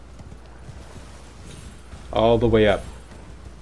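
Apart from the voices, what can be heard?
horse hooves galloping in the video game Elden Ring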